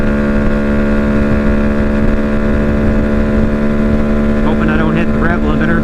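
A small motorcycle, a Honda Grom or Benelli TNT135, runs flat out at top speed, its engine a loud, steady, high-revving drone with wind rush, heard up close from the rider's position without talk.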